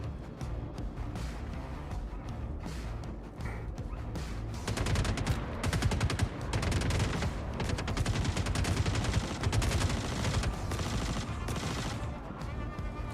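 Rapid bursts of gunfire in the Star Citizen video game, dense overlapping automatic shots and sharp cracks that intensify midway and continue steadily, loud and close with no talking.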